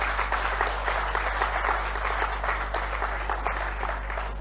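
A congress audience in Kinshasa applauds in a dense, continuous round of clapping, steady and fairly close, with no speech.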